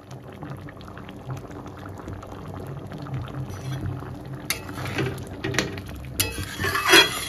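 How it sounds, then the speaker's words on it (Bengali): Arhar (pigeon pea) dal boiling in a pot, a soft continuous bubbling and simmering that grows busier and brighter toward the end, with a few clinks near the close. "ডাল সুন্দর করে ফুটে গেছে।"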